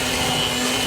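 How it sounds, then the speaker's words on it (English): Electric hand mixer whirring steadily as it blends heavy cream, vanilla extract and ricotta for a pear and ricotta crostata, a loud continuous motor drone with no pauses. "And now, with our mixer, we're gonna blend everything together."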